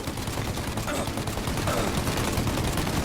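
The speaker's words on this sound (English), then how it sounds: "Shoot up their gun when there's a break in their fire!" Rapid overlapping gunfire in a Mafia video game shootout, a dense, continuous fusillade of shots and bursts that stays loud and close throughout.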